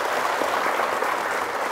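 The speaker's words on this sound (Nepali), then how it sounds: "एकचोटि उहाँलाई ताली बजाइदिनुस्।" Studio audience applause on a televised Nepali quiz show, a steady dense wash of clapping that holds evenly through the whole short stretch with no voices over it.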